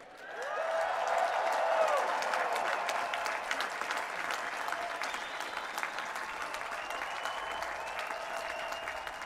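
A large crowd of graduating students at a commencement ceremony cheers and applauds, with dense, sustained clapping that swells quickly and stays loud throughout, some faint shouting mixed into the steady wash of applause.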